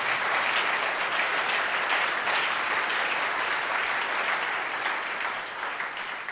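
A church congregation claps and applauds the Lord in steady, dense applause that fills the whole stretch, loud and continuous with no voices standing out.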